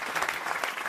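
A studio audience applauds in a short, dense burst of clapping, loud and close, without voices over it.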